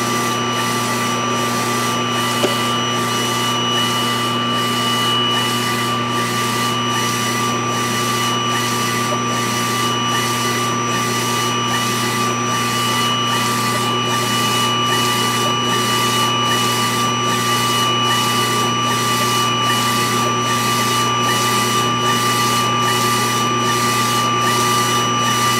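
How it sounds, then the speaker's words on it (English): Ricoma Revel 2402 T DTF printer running a print job, a constant mechanical hum with steady tones and a regular rhythmic pulse of the printhead carriage sweeping back and forth, close and unbroken, no talk. "now I can hit print, start printing out this job"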